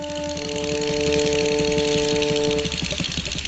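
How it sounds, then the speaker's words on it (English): Little cartoon tractor engine running, a near, steady chugging putter with a humming tone, rhythmic pulses continuing throughout before the drone drops away near the end. "The little tractor was glad to turn his wheels so that they would warm up."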